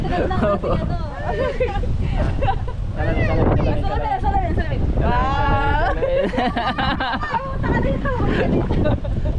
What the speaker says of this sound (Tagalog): Ang lakas pa na ng hangin.